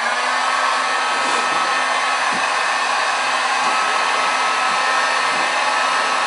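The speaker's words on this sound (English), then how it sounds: "So what I'm going to do now is go ahead and turn on the heat gun" A heat gun runs steadily and loudly, heating rigid tubing for bending with a tubing bender jig, giving a constant airy blowing hiss with a faint steady hum and no pauses.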